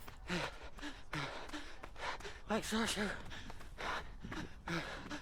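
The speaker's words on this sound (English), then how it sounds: "my breathing seemed really loud" Loud, close breathing with sharp gasping inhales repeating in a quick, uneven rhythm from someone running hard at a parkrun.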